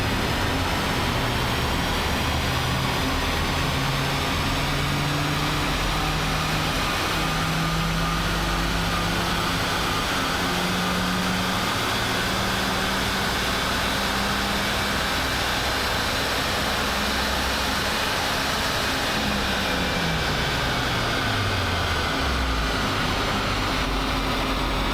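A BMW project car's engine works through a sustained dyno run, a steady droning note that climbs gradually in pitch and then drops away near the end, loud and continuous with no talking.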